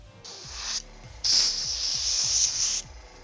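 An airbrush sprays paint onto Guild Ball miniatures: a short hissing burst, a brief pause, then a longer, louder sustained hiss, all close and without speech over a faint background hum.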